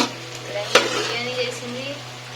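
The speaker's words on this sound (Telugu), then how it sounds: "Chicken pakodi, chicken wings fry అవుతున్నాయి అన్నమాట." Chicken pakoda and chicken wings frying in hot oil, a continuous close sizzle with a sharp clink of a utensil partway through, a short stretch of steady crackling.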